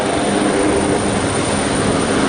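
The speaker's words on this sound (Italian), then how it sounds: "vediamo l'elicottero poggiare sul cuscino di aria prodotto dal flusso rotore stesso" An HH139 search-and-rescue helicopter hovers low at an airshow, its rotor downwash producing a loud, steady roaring whir with constant turbine drone, close and unbroken throughout.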